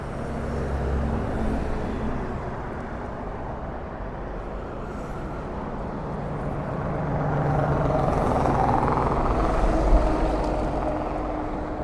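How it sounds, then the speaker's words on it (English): A private jet approaching to land at Toronto Pearson airport, a distant broadband engine rumble and whoosh that slowly swells louder toward the end over steady outdoor background noise. "Looks like we have a private jet coming in."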